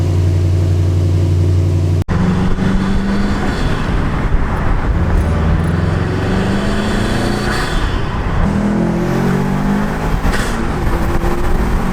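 A 2019 Subaru WRX STI with a Cobb intake cranks over and settles into a loud, steady idle, a sharp starter burst at the start followed by a continuous low rumble with slight revving swells.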